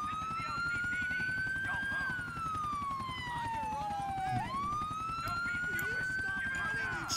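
A police siren in the video game GTA IV LCPDFR wails in long rising and falling sweeps, loud and continuous over a rapid rhythmic thumping like helicopter rotor blades.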